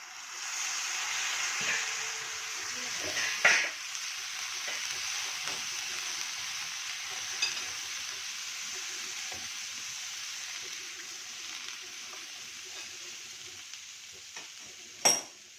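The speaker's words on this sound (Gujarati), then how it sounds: "એમાં આપણે ચણા નાખીશું" Chickpeas added to a frying pan with spices and green chillies, sizzling softly and steadily with occasional scrapes of stirring and a couple of sharper clinks, no talking.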